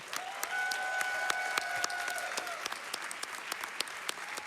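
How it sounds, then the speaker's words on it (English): Steady audience applause fills a speedrun marathon event hall, with dense, sharp claps running on without a break and a few louder individual claps standing out. "So can I get a round of applause for just these two alone?"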